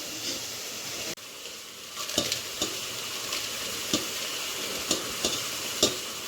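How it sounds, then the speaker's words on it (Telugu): Ginger sizzles in a hot pan for a ginger masala, a constant frying hiss broken by several sharp scrapes of stirring at irregular intervals. "ఈ అల్లం కూడా ఫ్రై అవ్వాలి మంచిగా"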